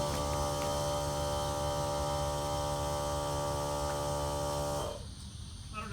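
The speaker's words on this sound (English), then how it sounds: "Let me go turn the compressor off." An air compressor for an Air Lift 1000 air-bag suspension on a Suburban runs with a steady, loud mains-like hum that then cuts off abruptly near the end, leaving quieter background.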